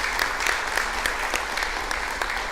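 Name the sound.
applause for the clarinetist Marta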